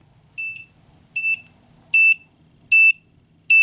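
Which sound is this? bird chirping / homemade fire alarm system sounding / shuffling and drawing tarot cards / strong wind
homemade fire alarm system sounding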